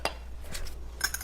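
Spoons clinking against a jar while scooping vegan Nutella, three light, faint metallic taps spaced about half a second apart in an otherwise quiet kitchen.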